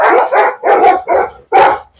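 Two aggressive female bully kutta dogs bark loudly and close by, five sharp barks in quick succession with short gaps between them, no talking over them.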